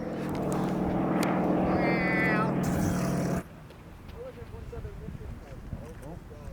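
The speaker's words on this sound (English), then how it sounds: "Plane." An airplane passing overhead, a broad roar that swells and then cuts off, with people chatting outdoors over it and quieter ambient noise after.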